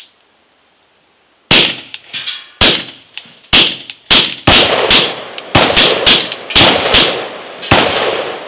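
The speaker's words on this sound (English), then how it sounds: "So let's go ahead and just dump some rounds with this one real quick." An AREX Rec 01 rifle fired through a Griffin Optimus silencer, about a dozen sharp suppressed shots in quick uneven succession, each with a metallic clang and short ringing tail, loud and close.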